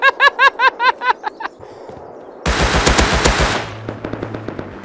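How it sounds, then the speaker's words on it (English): Automatic gunfire in a Rust raid, loud close bursts: a rapid run of evenly spaced shots, a short lull, then a dense sustained volley that tapers into scattered shots. "he's shooting at me"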